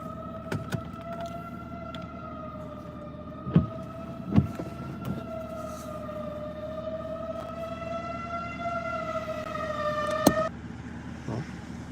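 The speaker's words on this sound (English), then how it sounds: "The siren is fucking terrifying." A tornado warning siren in Kentucky during an overnight storm wails as a steady, sustained tone with slowly shifting pitch, heard from a distance under faint rain and occasional sharp clicks and knocks nearby.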